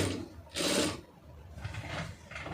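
A sewing machine stitches the lining of a blouse in short bursts, with one louder, denser run of mechanical whirring between quieter, fainter stretches, heard alone without talk.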